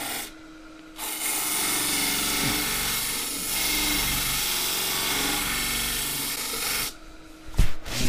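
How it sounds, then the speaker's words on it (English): Wood pressed against a 40-grit sanding disc mounted on a faceplate on a lathe, with a shop-made sanding table: a loud continuous abrasive rasping lasting several seconds, with a quieter motor hum before and after. "40 grit sanding disc on a faceplate."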